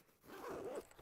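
The zipper on an accessory pouch of an iPad Pro laptop case is pulled in one short, quiet, close-up rasping stroke.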